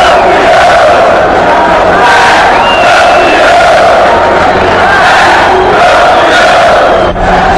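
Huge Corinthians football crowd at a stadium roaring and chanting to celebrate a championship, a dense, loud, continuous wall of voices with swelling shouts throughout.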